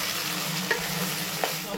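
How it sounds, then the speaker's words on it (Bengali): Sliced tomatoes and onions fry in oil as they are stirred for a Ramadan dry chicken dish. A continuous loud sizzle carries two light spoon knocks against the pan. "টমেটোটাও পেঁয়াজের মতন করে একদম সুন্দর করে ভেজে নিতে হবে।"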